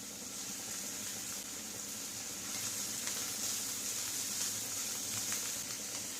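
Chopped onion and slit green chilies sizzle steadily in a frying pan, a faint, continuous crackle heard close with no voices.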